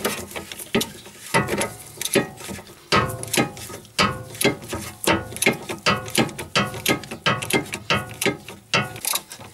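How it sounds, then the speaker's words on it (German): A hand ratchet loosens the bolts on a car's stabilizer link, giving rapid, loud clicking strokes in repeated bursts with short pauses between them. "Nachdem ihr jetzt beide Schrauben gelöst habt,"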